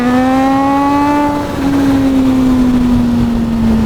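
A 1000cc motorcycle accelerates hard at full throttle in third gear with a loud, sustained engine roar. Its pitch climbs steadily and briefly dips, as if during a quick shift, then keeps pulling under heavy wind rush, with no talking.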